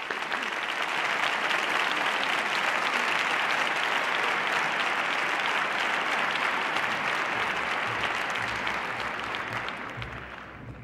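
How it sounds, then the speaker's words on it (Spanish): Sustained audience applause fills a hall at a Spanish film awards ceremony, loud and dense clapping from a large crowd that holds steady for several seconds before tapering off near the end. "Un aplauso para ellos."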